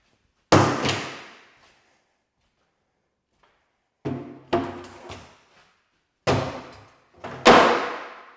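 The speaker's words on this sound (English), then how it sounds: "Do we think if I kick this door, you think it flies off the hinges?" A kitchen cabinet door is kicked repeatedly in a run-down house being renovated for a flip, giving five or six sharp, loud thuds and slams in separated bursts, each ringing out briefly, with silence between.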